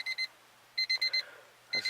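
Electronic warning chime inside an EK Honda Civic with the car switched on, sounding as short high double-tone beeps in clusters of three and four separated by pauses, close and clear over a faint hum.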